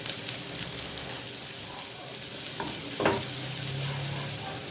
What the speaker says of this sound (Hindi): ये फ्राई होना शुरू हो गया है। खुशबू आने लगी है फ्राई होने की। बहुत अच्छी खुशबू आ रही है मक्खन की और लहसुन और प्याज की।